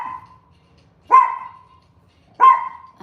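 A dog, apparently a Yorkshire terrier, gives three sharp, separate barks spaced a bit over a second apart, each a short, fairly loud yap with nothing else in between but faint background hum.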